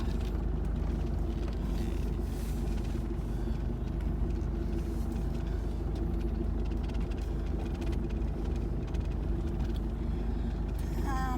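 A car drives along on a windy day, its steady low engine and road rumble heard from inside the cabin, fairly quiet and continuous.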